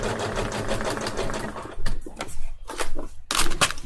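A sewing machine stitches fabric in a fast, steady mechanical chatter that runs loud and close for several seconds, then breaks into a few short bursts with brief pauses between them.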